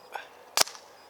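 A Proto Maxxed Rail paintball marker fires one sharp, close shot through a chronograph. A softer click comes just before it.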